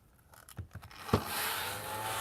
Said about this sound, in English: let me bust out the little vacuum again